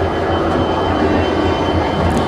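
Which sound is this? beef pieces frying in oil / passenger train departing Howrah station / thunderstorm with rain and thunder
passenger train departing Howrah station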